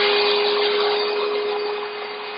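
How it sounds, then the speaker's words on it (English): A vinyl record cleaning machine's vacuum motor runs with a steady, loud whine and airy hiss, a constant tone holding throughout and easing slightly toward the end. "so first of all we set the vacuum cleaner going"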